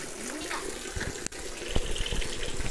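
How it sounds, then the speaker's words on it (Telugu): Spring water flowing continuously at a Vishnu temple, a steady rushing gush close by, with a brief break midway and faint thumps and background sounds over the flow. "ఈ నీళ్ళు పారుతూనే ఉన్నాయి, ఇవి ఎప్పుడైనా పారుతూనే ఉంటాయి"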